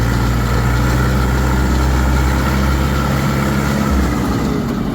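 A DTZ 50 hp tractor engine runs steadily and loud up close, with a constant low rumbling drone throughout and a slight shift in tone near the end.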